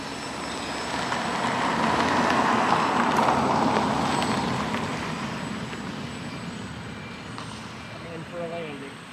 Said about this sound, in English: this airplane has no problem flying in a very small space